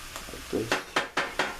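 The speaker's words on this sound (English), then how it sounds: "This can take a little while, so just keep stirring it." Spinach stirred around a pan with a utensil, giving a short run of four or five evenly spaced scraping knocks against the metal, close and fairly loud.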